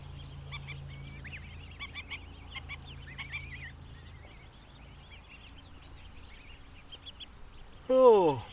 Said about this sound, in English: These African geese, they're here.